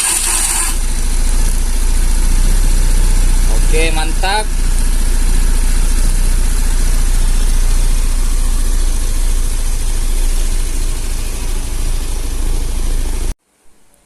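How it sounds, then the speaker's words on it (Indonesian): A 2013 Honda Beat scooter engine, started by remote, idles steadily and close by with a constant low rumble, while a person speaks briefly over it before it cuts off at the end. "Ini motor sudah hidup ya dengan remote."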